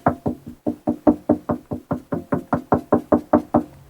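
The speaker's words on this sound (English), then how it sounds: "you can also use this trick when you're checking because you'll hear the wood against wood" Knuckle knocks on the wooden body of a cello, testing a repaired seam for a solid sound: about seventeen crisp, close, evenly spaced raps in steady rhythm, alone with no talking.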